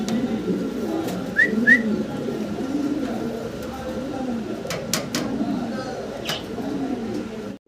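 German Beauty Homer pigeons in a loft coo softly, with a couple of brief whistly calls and faint rustling nearby, while someone talks over them throughout.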